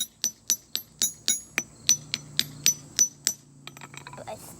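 A hammer strikes an ammonite nodule about a dozen times in a quick, regular rhythm, each sharp, ringing crack close and loud, before the blows stop and a few faint rattles follow.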